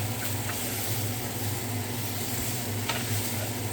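Ginger sizzling and being stirred in a hot pan, a steady dense frying hiss with faint scrapes of the utensil, close and continuous throughout.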